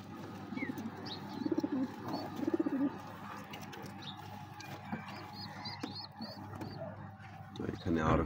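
Sirazi pigeons in a coop give soft, low cooing in short rhythmic bursts close by, with scattered chirps and a person talking now and then.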